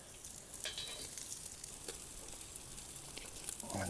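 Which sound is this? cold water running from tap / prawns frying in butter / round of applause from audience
prawns frying in butter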